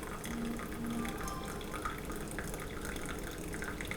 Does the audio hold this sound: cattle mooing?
no